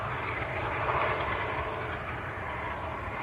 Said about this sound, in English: that's the second Emirates we've caught today